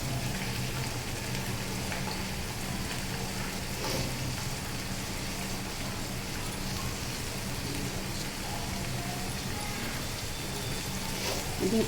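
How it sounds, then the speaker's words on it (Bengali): Rice and moong lentils fry in a pan for bhuna khichuri. A dense, steady sizzle and crackle runs unbroken from start to finish at an even, fairly loud level. "এটাকে বেশ ভালো করে ভাজতে হবে, যেন একটু জল না থাকে, ঝুরঝুরে করে ভাজতে হবে, সেটাই আমি ভাজতেছিলাম।"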